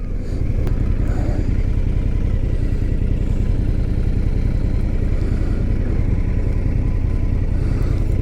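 Indian FTR 1200 motorcycle engine on a test ride, a loud, close, continuous mid-pitched drone that holds steady throughout with a slight clattering edge.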